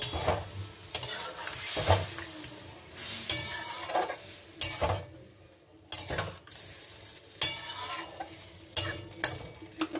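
Water poured into a pan of squash curry with fried spices brings quiet sizzling, with intermittent stirring scrapes and clinks of a utensil against the pan, and no talking.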